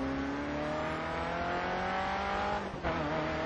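A race car engine in the video game GRID Autosport drones steadily with rising and falling tonal whine, loud and continuous, briefly dipping as if shifting gears.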